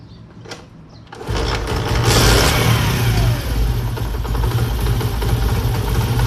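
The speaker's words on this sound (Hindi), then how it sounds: "मोटरसाइकिल की हल्की सी रेस जो है वो बढ़ानी है" A motorcycle engine being tuned at the carburetor starts up and is revved lightly, a close, loud mechanical drone that rises after a brief quiet start and holds steady with slight swells.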